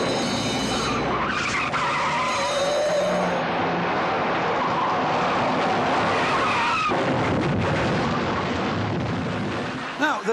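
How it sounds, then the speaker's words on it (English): A car chase between a Jaguar S-type and a Ford Granada, loud and close, with continuous tyre skidding and squealing over roaring engines that runs the whole way through and ends in a sudden cut. "Now, there were two cars in that chase"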